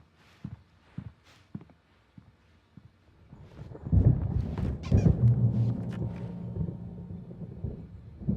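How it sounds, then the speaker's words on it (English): Thunderstorm in Alan Wake: after a few soft footsteps, a deep rolling thunder rumble swells in and lingers, heavy and low, before slowly fading. "There's a storm coming. Oh, what a storm."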